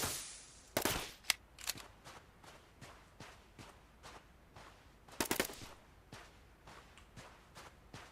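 Gunfire in the survival game Outbreak Island comes as a few loud sharp cracks near the start and middle, with lighter irregular clicks and taps between them, fairly quiet overall and with no talking.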